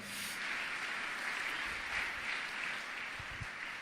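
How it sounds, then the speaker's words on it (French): A church congregation at a morning prayer service applauds a ministry group, a steady wash of many hands clapping that fills the room at even loudness for several seconds. "Acclamons ce groupe."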